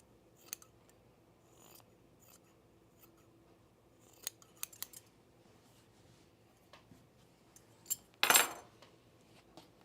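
Scissors snip through pre-quilted jacket fabric while trimming a hem, making sparse sharp metallic clicks and cuts scattered over several seconds, with one louder, longer crunching cut near the end, fairly close and quiet overall.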